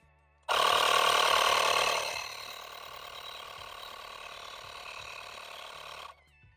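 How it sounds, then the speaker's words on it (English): A Licorne portable air pump inflates a basketball through an inflating pin with a steady mechanical whirring drone, loudest at the start, then settling to a lower hum for several seconds before it cuts off. "I put the inflating pin inside the air compressor hose"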